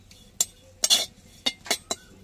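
Neem flowers stirred in a dry wok with no oil or water: a handful of sharp metallic clinks and scrapes from a spatula against the pan, close and intermittent, with no voices.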